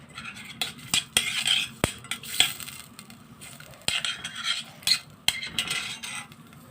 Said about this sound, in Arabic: اقلب البصله معايا